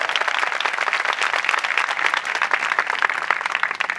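A church congregation claps to give thanks to the Lord during a sermon. The applause is dense and continuous, close and fairly loud, and runs unbroken throughout with no voices over it.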